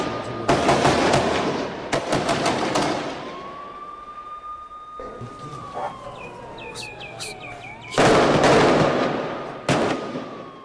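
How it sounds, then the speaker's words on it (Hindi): Explosive bursts and sharp cracks of gunfire in a bomb attack on an Israeli army unit, loud and repeated in clusters, with a wailing siren-like tone drifting through the middle and a rumbling background. "इजरायली सेना की टुकड़ी पर बम से हमला करने का ये वीडियो भी सामने आ रहा है"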